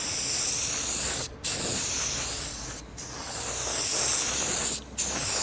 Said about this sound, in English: you want to keep your spray can about 6-8 inches away